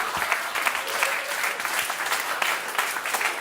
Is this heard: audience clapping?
yes